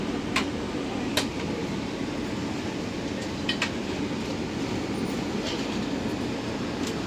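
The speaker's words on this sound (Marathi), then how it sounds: "फायनली अचानक प्लॅन झाला आणि आम्ही निघालो आहे कुठेतरी वंदे भारत ट्रेनने" A Vande Bharat train in motion, heard from inside as a steady loud rumble with a constant roar and occasional sharp clicks and squeaks, and no talking.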